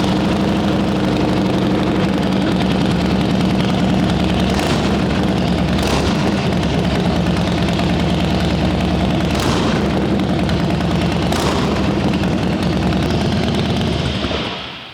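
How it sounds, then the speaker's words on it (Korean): A 2010 Harley-Davidson FXDF Dyna Fat Bob's Vance & Hines exhaust idles loudly and steadily, a deep lumpy rumble with occasional throttle blips, close by, cutting off at the end. "반센 하인지 머플러 배기 시스템 사운드 한번 들려드릴게요."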